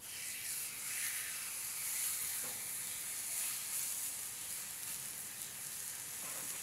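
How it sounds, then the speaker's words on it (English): Wagyu beef sears on a salt block heated to about 500 degrees over charcoal, giving a steady, dense sizzle and hiss that holds level throughout with no talking. "So let's throw that Wagyu on."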